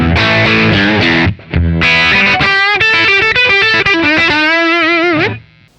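Electric guitar on the bridge pickup played through a Kemper amp with the definition knob lowered, a loud distorted lead phrase of picked notes and sustained bends, ringing out alone and fading at the end.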